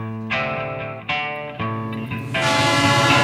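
Train at a railway station in a Korean action film, a loud series of blaring horn or whistle blasts starting and stopping in a rough rhythm, swelling into a sustained tone with rumbling noise underneath.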